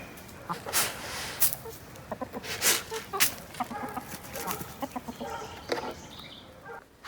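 A rooster and hens cluck and squawk close by in a busy farmyard, with scattered calls overlapping and a steady outdoor background.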